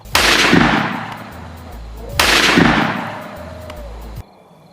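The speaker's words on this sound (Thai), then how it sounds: "ผู้ที่นั่งอยู่บนหลัง สาดกระสุนเข้าใส่ผู้ที่แฝงอยู่ในละเมาะอย่างเหี้ยมเกลียม" Gunfire effects in a Thai audio drama set in a jungle ambush: two loud, sharp blasts a couple of seconds apart, each ringing out in a long echoing tail, with no voices.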